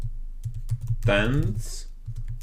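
Code being typed on a computer keyboard in Dartpad, with steady clicking keystrokes throughout and a brief voice in the middle.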